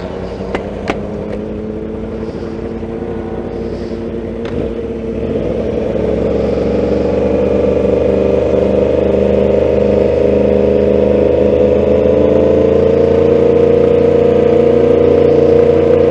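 Drift cars racing at Formula Drift, Road Atlanta, heard from a distance: faint crowd noise and sharp pops early on, then a loud sustained engine howl rising steadily in pitch as a car accelerates through the rest.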